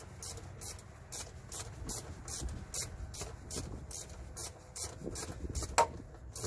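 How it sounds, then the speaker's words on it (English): Bolts are driven in on a 2013 Chevy Suburban 1500 5.3 serpentine belt tensioner, heard as a quiet, regular series of short ratcheting clicks repeating about twice a second in cold outdoor air. "Bolts going in. Nice and easy."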